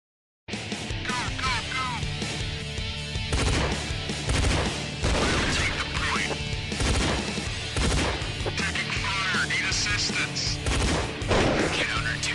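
Gunshots from an online multiplayer shooting video game ring out in dense, loud, continuous bursts mixed with crashes, with a voice faintly under the action.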